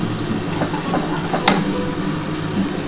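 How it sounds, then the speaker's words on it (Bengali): Spiced water poured into a pan of oil-fried masala for a prawn malai curry, giving a steady broad sizzle and hiss with a few sharper crackles and a brief louder burst midway, no talking. "এই মশলার জলটা এবার ঢেলে দেবো"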